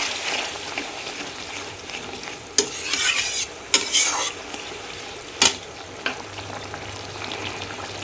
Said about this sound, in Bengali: এখন সামান্য জল দিয়ে দিচ্ছি। জলটা কিন্তু আমি গরম জল দিয়েছি।